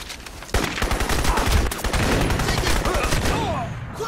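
Gunfire erupts in the Crysis shooter game, rapid automatic bursts and overlapping shots starting abruptly and continuing loud and dense, with shouted voices mixed in among the firing.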